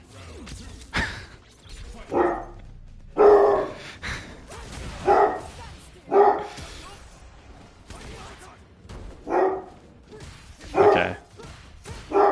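Pet dogs bark repeatedly at home, set off by a car door, sharp barks and yips spaced a second or two apart, fairly close, with whimpers between.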